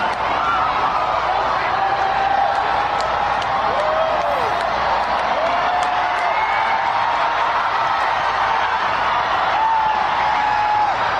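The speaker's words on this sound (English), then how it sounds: "They cheer as the eclipse begins." A massive crowd at an eclipse watch party at the Indianapolis Motor Speedway cheers as the total solar eclipse begins, a loud, continuous roar with whoops, whistles and scattered voices rising above it.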